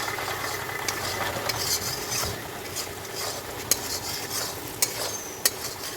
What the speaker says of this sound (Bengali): মশলাগুলো দিয়ে ভালো করে কষিয়ে নেব।